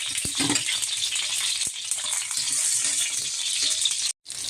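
Garlic sizzles steadily in a little cooking oil in a pan while vegetables are being cooked, a dense continuous frying hiss with a few small pops, broken by a brief silence near the end.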